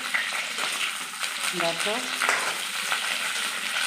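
Cauliflower florets frying in a pan and turning reddish-brown, a dense close sizzle with stirring scrapes, interrupted briefly by a short spoken word.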